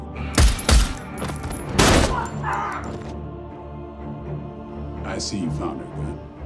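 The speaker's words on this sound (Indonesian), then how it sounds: "istri Udin tiba dan menembak polisi itu" Gunfire in an action film about brutal mafia men clashing with a marine captain's family, as a wife shoots a corrupt policeman: a few loud, sharp bangs early on, then quieter scuffling sounds, with talking running through.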